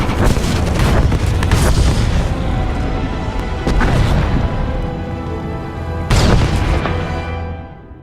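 A heavy explosion rumbles through a Star Wars: The Old Republic scene on Taris, a loud, sustained roar with a few sharper blasts and crashes about midway and near the end, fading as it closes.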